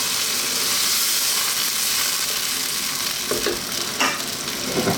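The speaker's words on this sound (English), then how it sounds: "We're also going to add some water." Water is poured into a pot of vegetable minestrone soup with stock, giving a steady loud sizzling hiss up close, followed by a few stirring clunks near the end.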